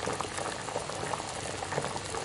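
Figs simmer in a pot of syrup for candying, a steady rolling boil of small bursting bubbles, close and even throughout.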